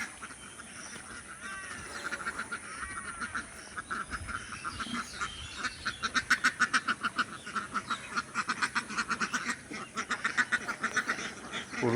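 Ducks on a duck farm quack in a noisy flock, a busy chorus of overlapping calls that grows into loud, rapid, rhythmic bursts toward the end.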